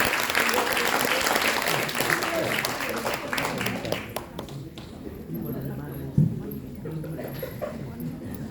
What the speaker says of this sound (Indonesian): berikan tepuk tangan yang luar biasa Bapak Ibu